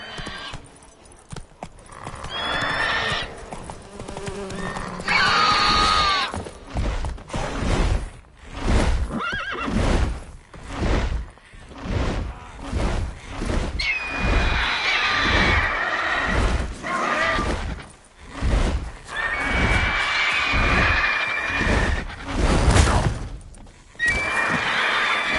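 A horse in The Witcher 3: Wild Hunt repeatedly whinnying and neighing while its hooves pound in rapid galloping bursts, loud and close, with a brief voice at the start.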